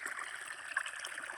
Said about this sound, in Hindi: जैसे कि ये पानी चल रहा है